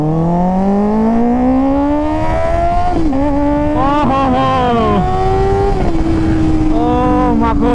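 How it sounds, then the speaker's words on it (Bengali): A Suzuki Hayabusa inline-four motorcycle engine on a highway, loud and close, climbing steadily in pitch as it accelerates, with brief dips at shifts before pulling up again. "ভাই আলাদাই সাউন্ড ভাই। ইনলাইন ফোরের একটা আলাদাই মজা আছে ভাই"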